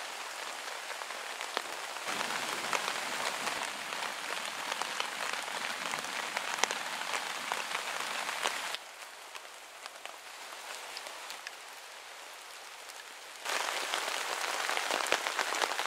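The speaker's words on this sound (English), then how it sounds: "Nice pouring rainstorm." Heavy rain pours onto a camping hammock tarp shelter during a thunderstorm, a dense, steady drumming hiss that drops to a softer patter midway before returning at full strength; no voices.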